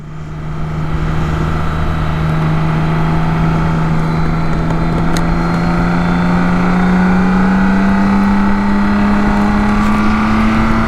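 A BMW K1600 GTL motorcycle accelerates hard on the Autobahn, its six-cylinder engine tone climbing steadily in pitch, loud and continuous with heavy wind rush throughout.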